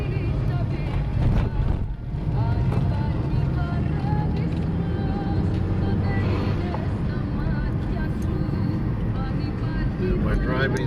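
A car drives along a quiet road through the Argolic Plain in Greece, giving a loud steady engine and road rumble that runs unbroken throughout, with voices faintly mixed in.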